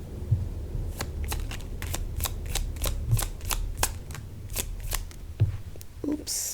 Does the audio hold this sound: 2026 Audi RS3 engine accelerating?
no